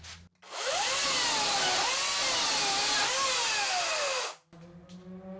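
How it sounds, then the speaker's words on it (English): A Harbor Freight electric chainsaw revs up and runs at high speed for about four seconds, a loud sustained whine with wavering pitch as it cuts, then cuts off abruptly into quiet. "I think this is the fastest electric chainsaw that we've tested yet."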